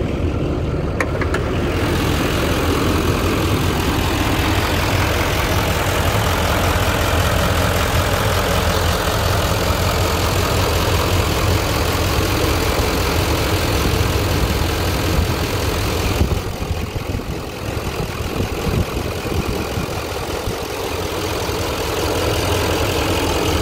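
A 2011 Chevrolet Silverado 2500HD 4WD with a 6.6L Duramax diesel and about 200K miles idles steadily up close, a continuous low rumble with a brief dip in level partway through, with no talking.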